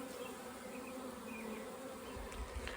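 Close, continuous buzzing of honey bees flying around a hive colony during hive work, a steady insect drone with a few louder passes near the end.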